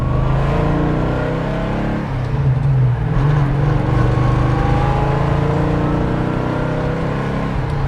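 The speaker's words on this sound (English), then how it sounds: "it has a cool sounding exhaust" A 1972 Jensen Interceptor 440's exhaust rumbles loudly and steadily up close, a deep throaty drone that rises in pitch as the engine revs, with no talking.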